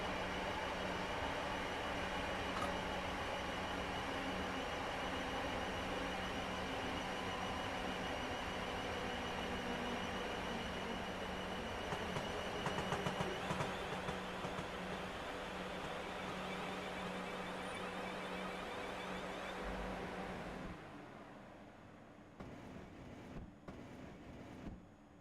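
A steady rumbling drone of a train rolling along track in Train Simulator runs for about twenty seconds, faint and even, then drops away into quieter, intermittent rattles near the end.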